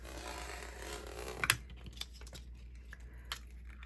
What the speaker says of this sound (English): I'm going to cut the 7-inch ring.